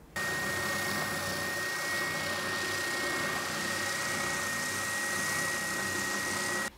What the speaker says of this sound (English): I'm going to make it smoother and I'm going to use my belt sander